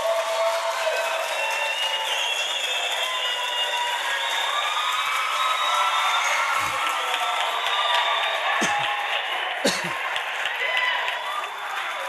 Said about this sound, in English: Round of applause for Ntate Jerry Mofokeng.